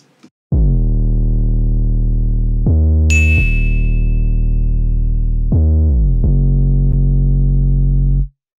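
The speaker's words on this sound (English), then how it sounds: "So for the bass I used Massive, and this is a preset I made from scratch." A bass synth preset built from scratch in Native Instruments Massive plays a few sustained, loud, buzzy low notes with sharp attacks and brief gaps between them, alone with no talk.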